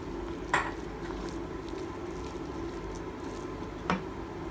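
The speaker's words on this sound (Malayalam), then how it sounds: "നമ്മൾ ഇളക്കിക്കൊണ്ടിരിക്കുകയാണ്." Quiet kitchen stirring of mashed potato into a banana flower cutlet mixture, a soft continuous squishing with two brief utensil clinks against the bowl.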